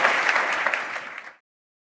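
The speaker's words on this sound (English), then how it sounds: "Let's give them a warm round of applause, please" Conference audience applauding, a dense, steady burst of clapping that carries on for over a second and then cuts off abruptly into silence.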